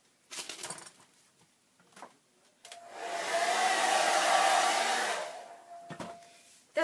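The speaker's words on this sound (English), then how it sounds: "That's how I blow the dust off" Someone blows dust off an old children's book being restored, one long close breathy gust lasting a couple of seconds between a few faint handling rustles and taps.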